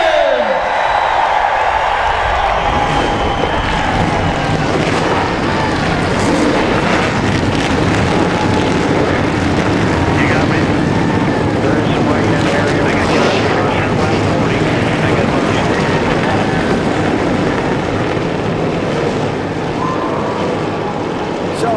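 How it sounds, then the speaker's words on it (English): Many NASCAR race car engines starting and idling at Dover's Monster Mile during the 2011 AAA 400, a dense sustained roar with crowd noise, loud and unbroken for the whole stretch. "Drivers, start your engines!"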